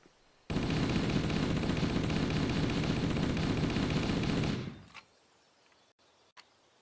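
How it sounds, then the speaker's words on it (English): Assault rifle firing in the shooter game Halo Campaign Evolved, a loud, muffled, continuous automatic burst lasting about four seconds before cutting off, followed by a couple of faint clicks. "the sound of the assault rifle sounds kind of like muffled"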